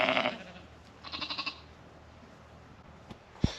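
Sheep on a farm, a flock including rams and tups, give a short bleat at the start and a brief run of bleats soon after, moderately close against quiet outdoor background.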